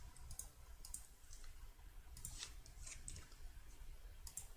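A computer mouse clicks while working in an Excel spreadsheet, giving a handful of faint, quick, close clicks, some in pairs, over low background noise.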